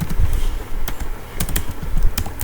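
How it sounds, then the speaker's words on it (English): Fingers type on a computer keyboard up close, a fairly loud run of irregular clicks and key taps with no talking. "Here I'll type help"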